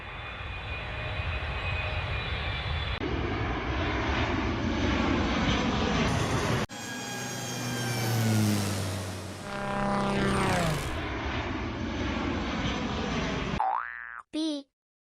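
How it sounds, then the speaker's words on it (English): An airplane engine drones steadily and loudly with a propeller-like hum, the pitch shifting and swelling through the middle, then cuts off abruptly before a short cartoonish boing at the end. "A for airplane."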